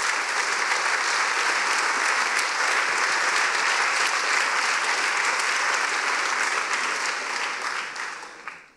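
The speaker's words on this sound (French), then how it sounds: "Et merci pour vos applaudissements" Sustained applause from a conference audience at a French economic forum, dense, steady clapping that holds loud for about eight seconds before tapering off at the end.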